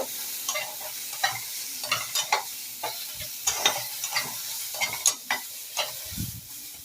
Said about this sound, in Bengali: হলুদ আর লবণ দিয়ে বরবটিগুলোকে আমি ভালো করে ভেজে নেব